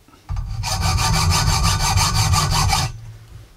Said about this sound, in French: soit la bonne vieille technique de la scie à métaux